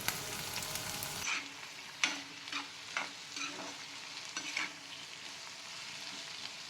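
Garlic, ginger and onion sizzle steadily in a hot pan, with a run of scraping stirs and clinks close by, the frying hiss continuing throughout.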